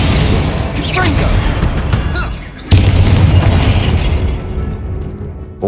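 Confringo explosive spell in Hogwarts Legacy, a heavy boom landing sharply partway through amid rumbling combat noise, with a voice speaking over the game sounds.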